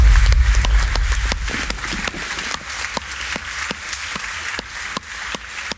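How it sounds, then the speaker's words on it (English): Closing applause for guests after a debate, sharp individual claps in a fairly sparse, irregular rhythm, fading slightly as it goes on, close and alone without talk. "can we have one last round of applause for all our guests?"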